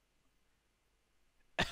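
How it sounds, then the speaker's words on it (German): A single short, sharp cough bursts out near the end after quiet room tone, close and fairly loud. "Ich sollte was gegen meinen Husten machen."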